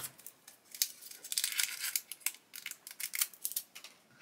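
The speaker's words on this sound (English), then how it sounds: "So we'll cut our bag of screws open," Scissors snipping and crinkling through a plastic bag of screws for a model car kit, a series of close, quiet sharp cuts with rustling plastic between them.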